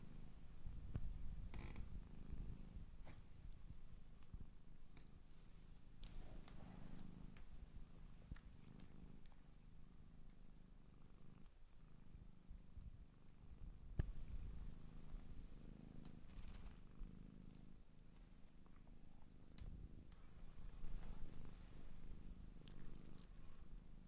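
A house cat purring close up, a soft steady rumbling purr that continues throughout with faint background noise.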